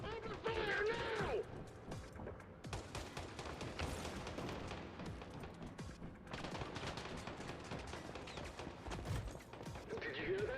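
Dense gunfire in the video game Once Human, rapid shots and bursts layered over chaotic game effects, loud and continuous, with voices shouting briefly at the start and end.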